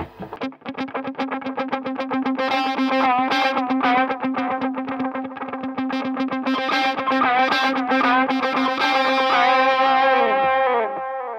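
Electric guitar runs through an Into The Waves modulating echo pedal, a fast picked, dense phrase with wavering, warbling repeats smearing into long echo trails, loud and close with no talking.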